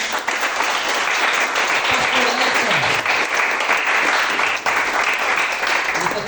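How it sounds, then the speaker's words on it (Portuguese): Sustained applause from a church congregation during a Pentecostal-style worship service, dense steady clapping filling the room throughout with a few voices faintly mixed in. "Receba o servo do Senhor com uma salva de palmas."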